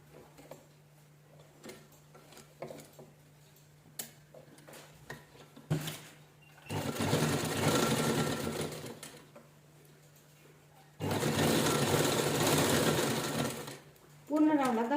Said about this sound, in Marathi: त्यामुळे दाब शिलाई देऊन घेऊया.